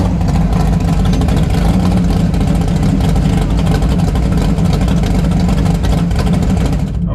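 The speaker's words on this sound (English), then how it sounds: "we're running Claudio's big tire 68 Camaro" A big-tire 1968 Camaro drag car accelerates hard down a drag strip, its engine roaring loud and steady with a dense, constant low rumble throughout.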